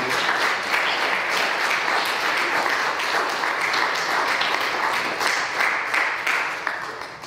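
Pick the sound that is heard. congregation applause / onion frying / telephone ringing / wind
congregation applause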